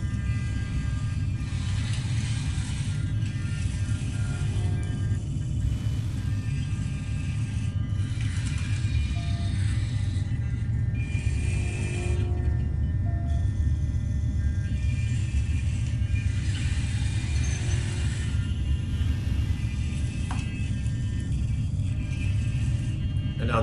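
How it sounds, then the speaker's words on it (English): Servo mechanisms on a MATRIX robot moving a game piece give a continuous low mechanical whir and hum with faint ratcheting clicks, steady and moderately loud throughout. "I'm going to go ahead and make one more move so you can get an idea what the robot does and how the servo mechanisms work."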